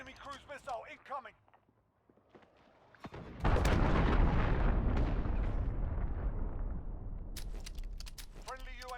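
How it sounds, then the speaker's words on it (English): Cruise missile strike in Modern Warfare multiplayer on PC: after a brief voice line and a quiet gap, a loud explosion bursts into a long roaring rumble that slowly fades, with a short voice returning near the end. "Enemy cruise missile incoming."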